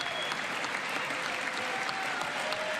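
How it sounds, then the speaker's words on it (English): Sustained standing ovation at a congressional address, steady dense clapping from a large crowd filling the hall without a break, fairly distant and even in level, with faint crowd murmur underneath. "this is like the longest ovation"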